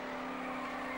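A 1980 Rover SD1 3.5 saloon race car roars past during a 1991 BRSCC road saloon race, a sustained loud engine note with a steady tone through the brief moment.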